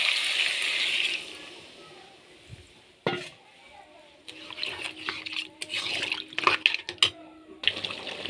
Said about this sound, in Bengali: কষানোর জন্য আরেকটু পানি দিয়ে দেব।